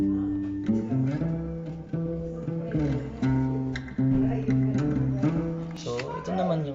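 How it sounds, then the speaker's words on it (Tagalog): A recorded bass track for a home-composed song plays a busy line of low, rounded notes in a continuous rhythmic pattern, close and steady throughout. "Ito naman tunog ng bass"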